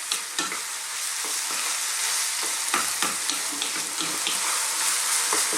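Minced meat and onions frying over medium heat in a pan, a loud continuous sizzle with spatter, punctuated by repeated scraping stirs, close up and without talk.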